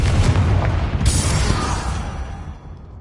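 A Confringo fire spell explodes in Hogwarts Legacy combat, a deep booming blast with a rumbling tail that fades away over a few seconds.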